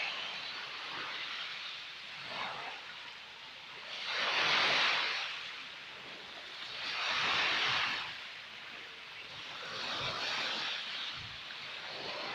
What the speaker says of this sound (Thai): เสียงคลื่นซัดสาดไปแล้ว